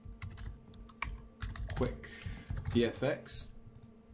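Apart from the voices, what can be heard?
typing on a computer keyboard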